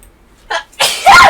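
A single loud sneeze, close by, preceded by a short sharp inhale.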